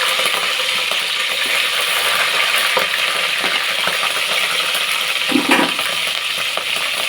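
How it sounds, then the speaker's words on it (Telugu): Green chillies hit hot oil in a pan and fry with a steady, bright sizzle and crackle that holds evenly throughout, with a few small pops and clinks and no talking. "ఆయిల్ ఎక్కిపోయింది కదా మనం పచ్చిమిర్చి వేసుకుందాం"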